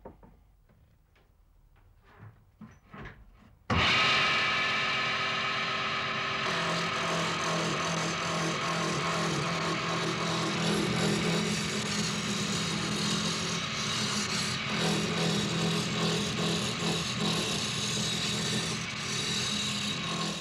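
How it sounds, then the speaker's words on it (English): A large half-round gouge roughs down a spinning timber blank on a lathe, shaping it into a cylinder for an Irish spinning wheel: a steady, loud, continuous scraping rasp that begins abruptly after a few quiet taps and runs unbroken. "A large half-round gouge is used for the rough turning, removing the surplus wood and turning the piece into a cylinder."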